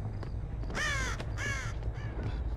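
A crow caws loudly in the horror video game Dead by Daylight: two long harsh calls close together, then a fainter third, over a steady low ambient hum.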